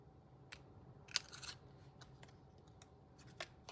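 Scissors trimming paper for a handmade card: a few sharp, close snips with soft paper rustle between them, quiet and without speech.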